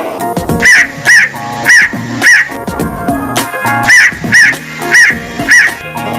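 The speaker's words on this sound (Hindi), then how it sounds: "हे भगवान, कहते हुए ये कौवा वहाँ से उड़ गया" A crow caws over and over in a steady rhythm of loud, close, harsh calls, set among other background sounds in a narrated children's story.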